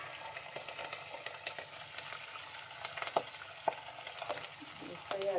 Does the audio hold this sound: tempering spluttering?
yes